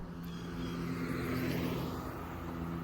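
An Aventura-X EV29 electric scooter, Vespa-styled, rides past outdoors as a steady, low motor hum with a soft broadband wash, fairly constant in level throughout with no voices.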